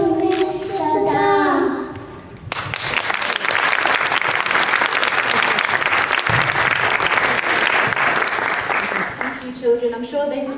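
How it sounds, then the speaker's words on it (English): Loud, sustained clapping from an audience after a children's performance at a women's day event, running for several seconds between stretches of a person talking. "I'm sure they deserve another round of applause."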